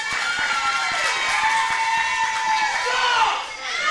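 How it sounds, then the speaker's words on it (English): A crowd at a wrestling event cheers and shouts in a steady, loud roar that fills the whole stretch, with a voice talking over the noise. "Do not cheer that!"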